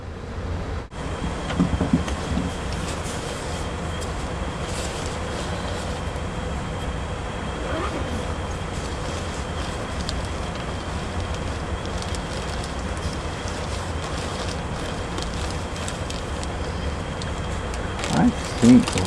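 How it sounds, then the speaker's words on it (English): Rail cars are shunted in a switching yard, heard as a steady, distant low rumble and hiss with faint clanks, continuing evenly throughout. "At one stop, we got to watch some switching yard action."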